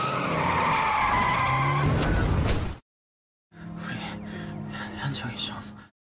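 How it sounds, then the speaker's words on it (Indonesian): A car accelerates hard with its tires skidding and squealing loudly, cut short by a brief silence and followed by a rushing, clattering noise burst while a voice talks over it. "memutuskan untuk menancapkan gas"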